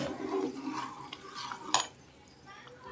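Sambar being stirred in a pot, a soft scraping and clinking of a spoon against metal with one sharper knock near the middle, close and fairly quiet, with no talking.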